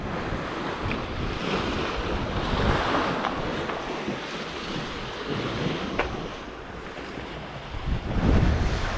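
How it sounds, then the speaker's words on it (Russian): Waves crash and wash onto the lake shore at Priozersk in a continuous roar, with gusty wind buffeting the microphone and swelling near the end. "Волны прям бьются о берег."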